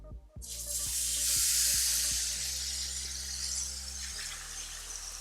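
Steaks searing in a hot pan: a loud, steady broadband sizzle that swells at first contact and then holds evenly, with faint low clicks underneath and no talk.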